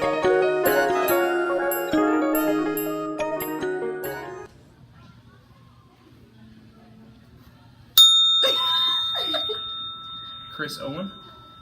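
A bell rings in a broadcast setting with a rapid run of bright, clear dings that leave a tinkling sustain and then fade. A second sharp strike with a long ringing tone follows, and voices talk over its decay.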